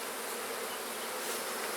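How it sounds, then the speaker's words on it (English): Honey bees buzz in a crowded, strong hive, a dense and steady hum that is close and continuous, with no voices. "There are a lot of bees in this hive."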